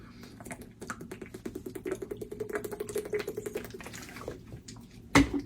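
A kitchen tap runs to fill a drinking glass, a rapid rippling patter that grows steadily over several seconds before ending in a sharp knock.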